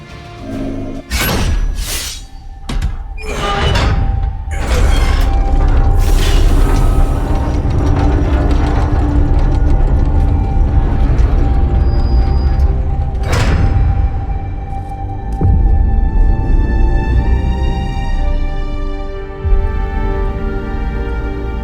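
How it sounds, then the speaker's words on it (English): An old Enigma lock mechanism in Marvel's Midnight Suns gives a series of heavy mechanical clunks and grinding slides, followed by a long resonant metallic rumble and ringing tones, loud and close. "An old Enigma lock."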